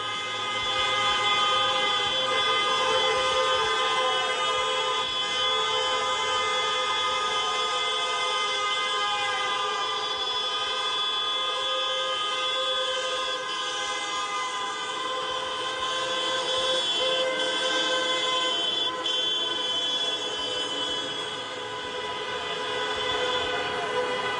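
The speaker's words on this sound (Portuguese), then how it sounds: "Vamos ouvir um pouco destas buzinadelas." Many car horns honk together in a street protest with busy traffic, a dense continuous blare of overlapping tones that stays loud and steady throughout, with no talk over it.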